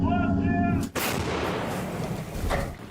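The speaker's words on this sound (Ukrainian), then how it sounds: "самохідна артилерійська установка Богдана" A single heavy blast from a Ukrainian Bohdana self-propelled artillery gun booms out after a brief harmonic tone, followed by a long rumbling, crackling echo that rolls on and swells again near the end.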